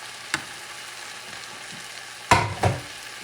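Leftover carne mechada and beans being stirred together in a hot pan, faint sizzling under a few sharp utensil scrapes and clatters.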